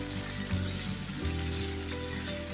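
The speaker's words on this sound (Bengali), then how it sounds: "পেঁয়াজের সঙ্গে আলুগুলি ভালো করে একটু ভেজে নিব" Potatoes fry with onion in a pan, giving a continuous close sizzle over a low steady hum.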